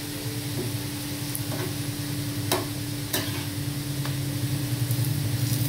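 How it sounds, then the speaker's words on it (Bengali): Paratha frying in a pan, a moderate continuous sizzle with soft scraping or turning clicks now and then, a low steady hum running beneath, and no talking. "একটা পরোটাও ঠিক এভাবে আমি ভেজে নেব ভালো করে।"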